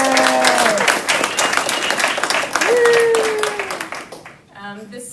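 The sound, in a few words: audience clapping and applauding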